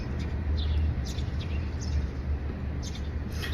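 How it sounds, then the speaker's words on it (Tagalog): Small birds chirp in short, faint bursts over a low steady rumble of background noise in a city neighborhood in Japan. "Narinig niyo ba yung ibon?"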